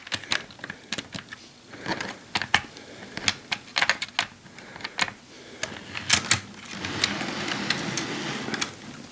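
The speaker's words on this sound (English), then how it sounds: "So let me put down the tracks." HO scale model train track pieces being set down and handled: a run of light, irregular plastic clicks and taps, close and fairly quiet, with no talk.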